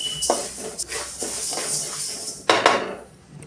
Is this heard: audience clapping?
no